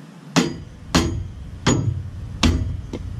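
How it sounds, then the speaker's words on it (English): A sledgehammer strikes to knock the cap off a jon boat trailer wheel hub, four loud, sharp metallic blows spaced under a second apart, close and ringing briefly, plus a faint fifth tap at the end. "I want to take the cap off. That's what you need the sledgehammer for."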